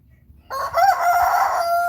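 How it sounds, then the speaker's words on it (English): An Ameraucana rooster lets out a single loud, close crow after a brief quiet moment, with a slightly awkward, wavering pitch that holds steady to the end. "He's probably just going to sit there and crow for the entire show this morning."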